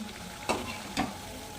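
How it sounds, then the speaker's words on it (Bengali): Semolina thekua fries in oil, a steady close sizzle broken by two brief louder bursts as the pieces are moved or turned, with no voices. "এই যে এটা ভাজা হয়ে গেছে এরকম লাল লাল করে ভাজতে হবে"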